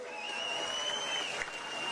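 A crowd at an outdoor Congress political rally in Pathankot, Punjab claps, a soft, distant, continuous patter of applause with faint voices and a bright tonal hum over it.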